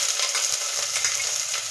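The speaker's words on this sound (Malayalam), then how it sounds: "ഇനി ചോപ്പ് ചെയ്ത് വെച്ചിരിക്കുന്ന ഇഞ്ചി ഇതിലേക്ക് ചേർത്ത് കൊടുക്കാം." Chopped ginger fries in oil in a pan for sadya-style puli inji, a bright continuous sizzle with small crackles and stirring scrapes, close and steady throughout.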